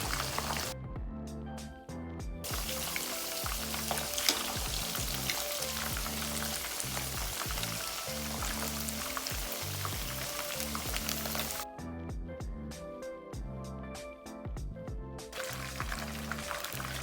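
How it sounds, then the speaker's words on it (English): Pandan-wrapped chicken frying in oil on medium heat, a steady bubbling sizzle throughout with brief crackling breaks, close and moderately quiet, no talking. "We will be frying these on medium heat."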